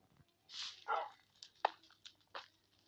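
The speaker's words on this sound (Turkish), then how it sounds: "Köpek." A few short, sharp dog barks and yips at moderate distance, spaced irregularly with quiet gaps between them.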